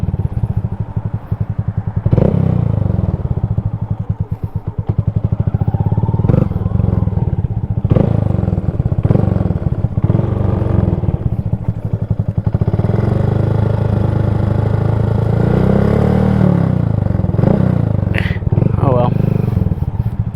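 A motorcycle engine runs loud and close throughout while riding, with clattering rattles over its steady drone and a few revving surges; someone talks over it.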